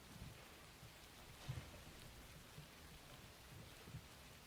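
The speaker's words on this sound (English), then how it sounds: "It's raining." Rain ambience plays quietly behind a VTuber's live stream. A soft, steady patter of rain carries a few faint low rumbles, with no speech.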